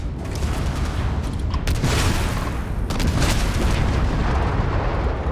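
Gunfire strikes a ship in the space game Starfield: a dense, continuous roar of rapid shots and impacts, with heavier booming bursts surging through it, loud and close, with no voices.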